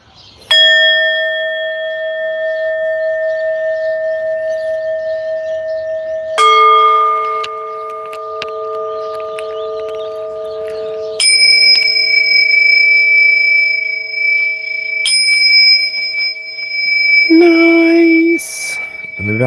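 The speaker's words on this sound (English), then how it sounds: "I'm going to do a little chime here and now to rebalance the energies." Bright ringing chimes struck one after another, each tone sustaining cleanly for several seconds, used to rebalance energies; a few overlapping strikes and a brief rattling shimmer near the end, with no one speaking.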